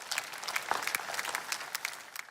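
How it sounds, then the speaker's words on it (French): Audience applause in a church or sermon setting, a steady dense patter of many hands clapping throughout, moderately loud with no voices on top. "Applaudissez pour elle."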